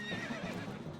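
Epona, the horse in the video game Twilight Princess, gives a short close neigh with soft hoof clops beneath it, a single quick whinny lasting about a second.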